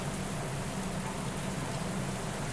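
Heavy monsoon rain in the Bhor Ghats during a Pune to Mumbai Pragati Express train journey, a steady, dense, unbroken roar of downpour with no speech.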